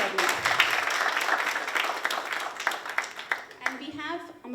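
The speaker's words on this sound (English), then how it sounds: "Please give a big round of applause to Abhay Kulkarni." Audience at a Hindustani classical music concert in a temple hall clapping in a lively, uneven burst that thins toward the end, with a voice speaking over the closing claps.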